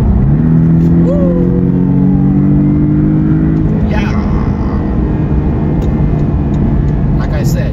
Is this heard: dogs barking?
no